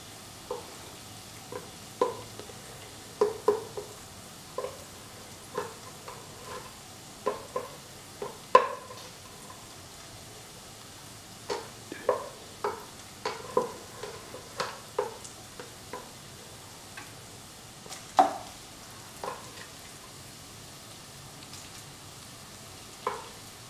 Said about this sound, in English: Mix the rice thoroughly with the prawns mixture under moderate flame